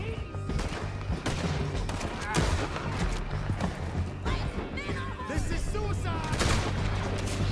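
Gunfire crackles through a Red Dead Redemption 2 gunfight, with several sharp shots scattered among hooves, movement and game ambience while someone talks over the action.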